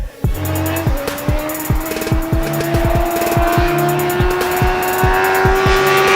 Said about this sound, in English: Suzuki GSX R1000, Coda, riding bikes, dragging knee.